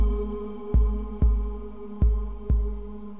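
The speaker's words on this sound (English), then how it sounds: "I'll just draw just a simple little kick pattern in here" A simple kick drum pattern from an Ableton Live MIDI clip thumps five times at an uneven pace over a low, steady hum, each deep hit decaying quickly.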